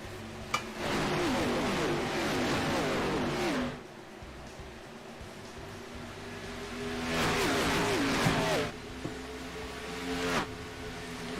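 Race cars in a racing video game roar off at the green flag start at Atlanta, engines revving and accelerating in loud sustained surges that fade between passes.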